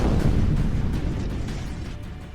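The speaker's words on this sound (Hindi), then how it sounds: "धमाके की आवाज।" Explosion amid armed clashes between the BLA and the Pakistani army in a Balochistan town, heard as a broad rumbling blast that fades into a low roar over a couple of seconds, with no voices.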